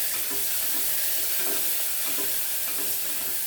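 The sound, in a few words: sautéing sliced onions in a pan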